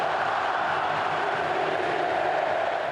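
A football stadium crowd roars and applauds a Flamengo player leaving the pitch, a dense steady wash of cheering and clapping from many distant voices.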